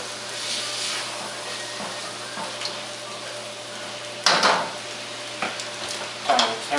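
Zucchini and noodles sizzle steadily in a pan with olive oil, a continuous fry hiss broken by a few louder scraping stirs near the end.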